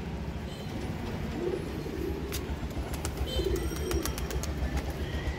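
Pet pigeons on a household rooftop give soft, repeated low coos at close range, with faint chirps and light outdoor background noise, and nobody speaking.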